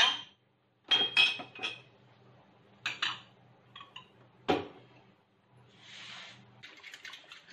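Dishes being washed by hand in a home kitchen: scattered clinks and knocks of pots, plates and cutlery with bursts of running water, in irregular clusters, close by, with a low steady hum beneath and no talking.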